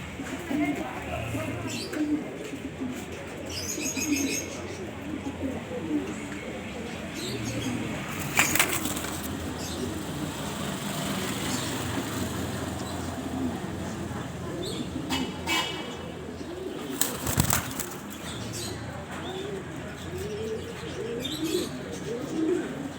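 Pigeons at a bird market in Alexandria coo steadily throughout, with bursts of wing flapping and scattered chirps close by, under a busy background of mixed bird sounds.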